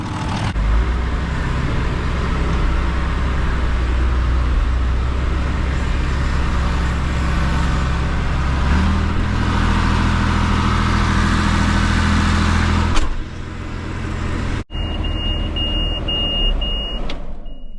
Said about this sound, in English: I'll go move the tractor now